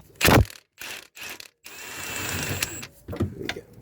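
A Milwaukee power tool works a big bolt loose on a Rover-era gearbox bracket, giving short loud bursts of rattling impact, then a longer sustained mechanical whir, close to the microphone.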